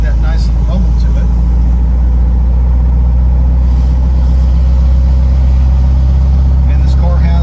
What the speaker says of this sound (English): you can probably hear that Abarth muffler. It's got that nice little rumble to it.